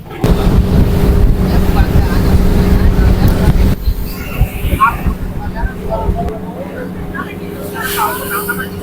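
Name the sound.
boat engine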